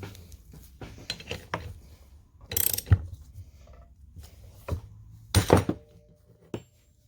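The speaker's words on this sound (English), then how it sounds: "This is a 17mm socket." A ratchet with a 17mm socket works on the muffler bolts of a Stihl MS-271 Farm Boss chainsaw, giving clicking ratchet strokes and metallic clunks in irregular bursts, close and fairly loud with no talk.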